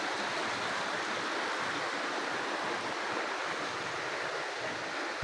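River water rushing below a steel bridge on the way to Mount Balakbak, a continuous broad roar of flowing water, close and even, with no voices.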